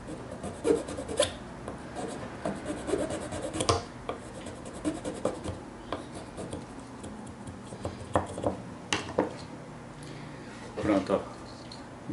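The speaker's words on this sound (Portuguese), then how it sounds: "Na verdade, acho que é melhor uma lima." A hand file rasps against a plastic part of a Printrbot 1405 3D printer during Z-axis motor assembly, giving irregular scraping and rubbing strokes with clicks, fairly close, under intermittent talk.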